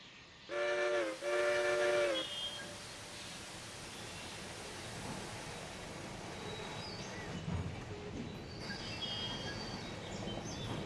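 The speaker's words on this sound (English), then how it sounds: "now the compressor is hurriedly filling up the brake pipe" Air hisses steadily as a locomotive's air compressor refills the brake pipe in the Railroader train simulator game. Two short whistle blasts sound at the start, then a long, fairly quiet rushing hiss continues to the end.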